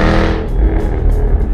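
Jaguar F-Type engine and exhaust heard up close, a loud gritty roar that fades from a bright rasp into a deep, rumbling burble with low pops, with no talk over it.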